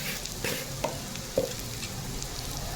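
Potatoes stirred in a pan with turmeric and homemade spice powder, a soft steady sizzle with a couple of light scrapes of the spoon close by.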